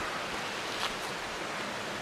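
A creek at Rocky Fork State Park rushes continuously near a crossing, a broad steady wash of flowing water with no voices and one brief louder splash.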